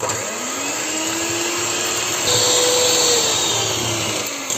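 An electric mixer whirs steadily and loudly up close as it beats eggs, vanilla sugar and sugar into a pancake batter, its motor pitch rising slightly partway through, with no talking.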